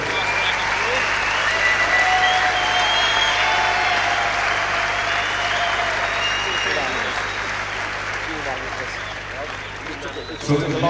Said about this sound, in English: can I have a round of applause for the two warriors?